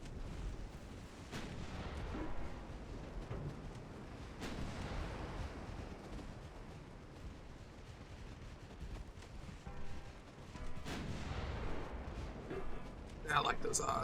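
Warship guns fire shells in Ultimate Admiral Dreadnoughts, several deep booms spaced a few seconds apart, rolling out over a constant low rumble while someone talks throughout.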